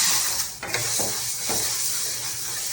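Spices and green gram dry roasting in a pan for homemade sambar powder, a continuous bright hiss with a few soft scraping stirs, close and steady.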